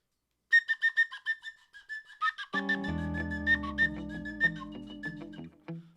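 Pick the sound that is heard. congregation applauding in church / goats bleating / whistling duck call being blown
whistling duck call being blown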